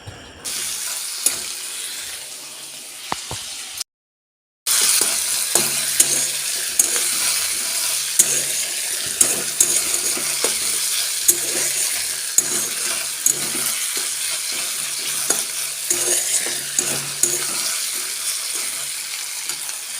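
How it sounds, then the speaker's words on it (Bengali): Onion, garlic, ginger and tomato sizzle together in hot oil while being stirred, a steady frying hiss with scattered clinks and scrapes of the utensil against the pan; the sound cuts out briefly near the start, then continues close and even. "এখন এদিকে পেঁয়াজ রসুন আদা টমেটো সমস্তটা একসঙ্গে তেলের মধ্যে দিয়ে ভালোভাবে নাড়াচাড়া করছি"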